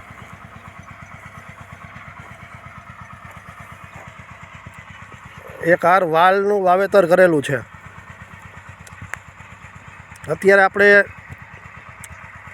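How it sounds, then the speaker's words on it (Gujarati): A mini tractor engine runs on a farm among pigeon pea rows interplanted with field beans, producing a steady, rapid putt-putt throb throughout. Someone talks over it in two loud stretches. "મિની ટ્રેક્ટર નાનું મીંદડું ચાલુ છે,"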